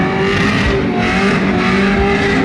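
A car engine revs hard in second gear at a Hoonigan car show at SEMA Show Las Vegas 2021, a loud, continuous, strained roar that holds steady for the whole stretch.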